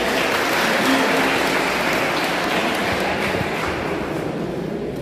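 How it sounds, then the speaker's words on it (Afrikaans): An audience at a community cup jersey handover ceremony claps continuously, a dense, even wash of applause from many hands filling the room throughout. "Kom ons gee vir lekker hande klap julle."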